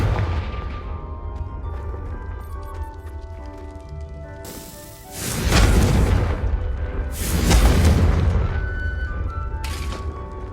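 Confringo fire-spell blasts in Hogwarts Legacy on PS5, two loud booming explosions with rumbling tails that rise out of a low game ambience and music bed, spaced a couple of seconds apart.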